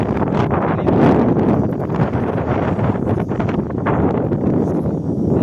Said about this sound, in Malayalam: കാറ്റ് വീശുന്നത്